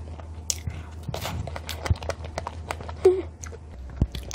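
Someone bites into and chews strawberries close to the mic, with soft wet crunching and smacking, plus a small clatter near the end.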